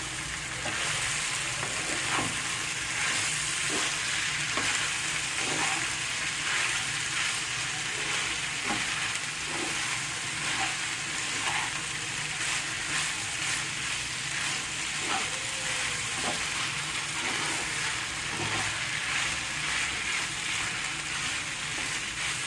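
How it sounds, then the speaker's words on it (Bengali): Boiled, chopped minced meat fries in a pan with a steady, close sizzle that holds evenly throughout, with occasional faint scraping or stirring clicks and no talking. "ভালো করে এটাকে ভাজতে হবে একটু।"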